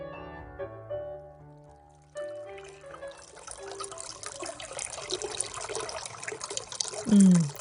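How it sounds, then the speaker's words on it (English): A backyard fountain runs with water trickling and splashing steadily, rising after gentle music fades out, close and continuous with no talking. "The sound that you're listening to is the fountain in my backyard."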